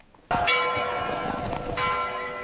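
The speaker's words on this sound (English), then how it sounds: "Bells ring across Europe." Church bells across Europe strike suddenly and ring on with a rich, sustained tone, a second bell stroke swelling the sound near the end.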